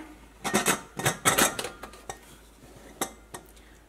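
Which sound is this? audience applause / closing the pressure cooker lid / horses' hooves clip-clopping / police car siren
closing the pressure cooker lid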